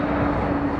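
A Boeing 747 airliner rolls along a runway at Heathrow while turning onto a high-speed exit, giving a steady, continuous engine roar with a faint tonal whine, close and fairly loud.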